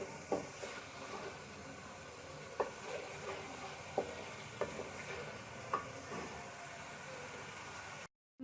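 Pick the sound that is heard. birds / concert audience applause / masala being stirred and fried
masala being stirred and fried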